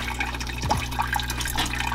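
Water sloshing and dripping in an amphibian tank as a fire-bellied toad drags a cricket into the water, a steady wet trickle with brief splashes, close and continuous, no speech.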